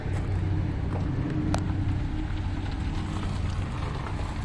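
A vehicle drives out of a yard of old equipment, its steady low engine rumble continuous and fairly loud, with a brief sharp knock partway through.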